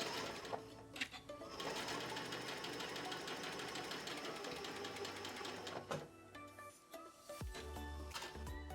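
A sewing machine runs slowly with a small straight stitch through quilt fabric, a steady close-up whir with rapid needle ticks that pauses briefly near the end and then resumes.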